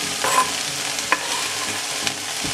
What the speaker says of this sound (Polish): Warzywa smażymy powoli i etapowo